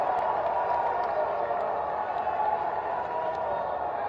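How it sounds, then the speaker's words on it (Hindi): A large crowd at a political rally addressed by India's defence minister claps and cheers, a continuous, slightly distant roar of applause and crowd noise lasting several seconds. "एक बार हाथ उठाकर तालियां बजाकर उसका अभिनंदन किया जाना चाहिए इस सरकार का"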